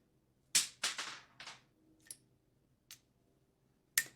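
LEGO launcher rapid-firing red Zamor spheres, a quick burst of three or four sharp snapping shots followed by a few fainter clicks and one final crisp shot, close and alone in a quiet room.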